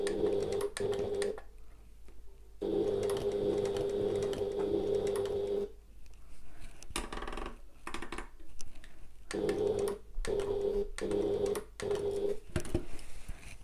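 A sewing machine runs in bursts at a short stitch length while stitching a bag, whirring stitches broken by pauses and clicks, fairly close with no voices.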